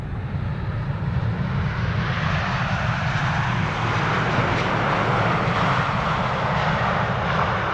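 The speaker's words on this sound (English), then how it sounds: "Let's listen and see if they'll apply reverse thrust or just idle reverse" An airliner lands with idle reverse thrust, its engines giving a steady, loud, broad roar throughout with no talk.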